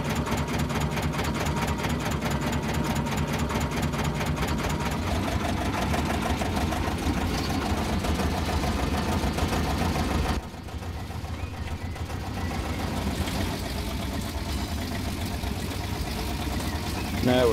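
A small narrow-gauge locomotive on the Corris line in Train Simulator 2019 pulling away, its engine chugging in a steady rapid rhythm that changes tone midway, with a voice talking over it.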